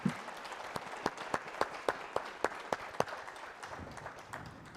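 Banquet audience at an annual alumni dinner breaks into applause, a steady wash of many hands clapping with sharp accented claps standing out, sustained then tapering slightly near the end.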